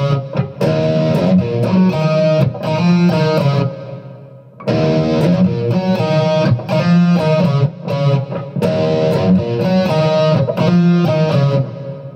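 A distorted electric guitar plays a minor lick slowly, twice through, each phrase of separate notes ringing out before a short pause and repeat.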